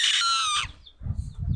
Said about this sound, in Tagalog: yung ibon, Yung lakas humuni